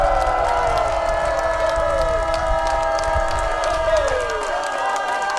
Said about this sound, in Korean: 전 국회의원이신 민경욱 대표님을 큰 박수로 모시겠습니다